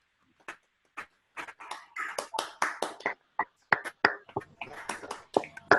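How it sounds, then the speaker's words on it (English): Zoom participants at an online research celebration applaud. Scattered individual claps start sparse and build into a denser, uneven patter of many separate hands, each set close-miked with slightly different room tones. "give a round of big applause to all of the participants"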